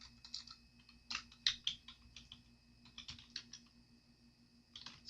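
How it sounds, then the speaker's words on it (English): Rapid keystrokes on a computer keyboard in Microsoft Word, clicking in irregular bursts with short pauses, close and fairly quiet, no talking. "you're going to press Enter and then type in the next paragraph there"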